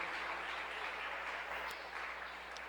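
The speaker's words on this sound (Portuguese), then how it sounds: "aplauda ao Senhor" A church congregation applauding together, a dense, steady wash of clapping that holds evenly for a few seconds, heard from within the room.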